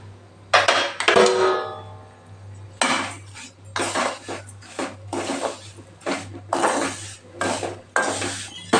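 A metal spoon scrapes and clinks against a pan while thick sev is roasted in ghee for barej, a Holi sweet, in bursts of rasping stirring and knocks, close and clear without talk.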